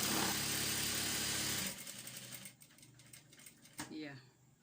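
A sewing machine runs a straight stitch along a tutu skirt in a steady, close whir for under two seconds, then stops, leaving soft handling noises and a speaking voice.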